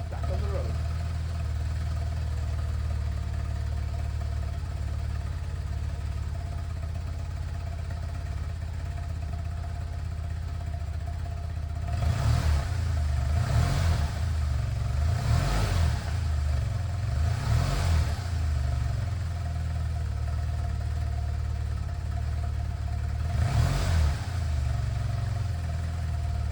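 A BMW R1200C motorcycle engine runs at a steady idle, then revs up in several sharp blips around the middle and once more near the end, close and loud.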